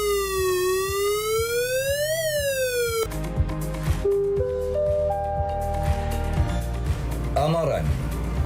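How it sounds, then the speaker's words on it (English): A wailing flood warning siren rises and falls in long sweeps for a few seconds, then gives way to a steadier electronic tone with deep pulsing beneath, loud throughout. "Terdapat 2 jenis siren. Pertama, bunyi siren amaran."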